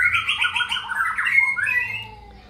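A white-rumped shama (murai batu) calls loudly and close by, pouring out a rapid run of varied whistles and chattering notes that trail off after about two seconds.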